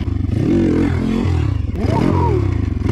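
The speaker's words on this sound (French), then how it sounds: "si je suis parti à pleine balle, c'est pas pour faire beau, c'est juste pour décrasser la moto" A motorcycle revved at full throttle to clear out the engine during wheelie practice, loud and close, its engine note rising sharply in two surges with rattly mechanical noise.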